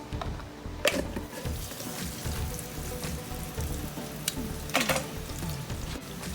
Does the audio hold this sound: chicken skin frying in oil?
yes